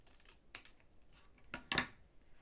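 Scissors snip through card for a handmade Valentine's card, giving two quiet, crisp cuts about a second apart in a near-silent room.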